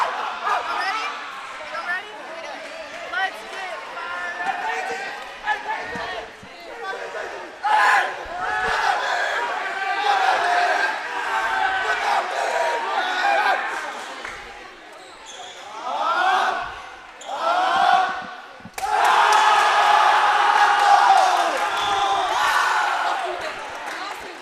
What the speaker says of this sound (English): Nice little cheer from the student section.